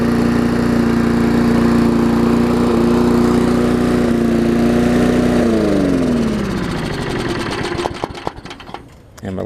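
Old Sycamore 22 inch lawn mower engine running loud and steady nearby, then winding down as it slows and sputters to a stop.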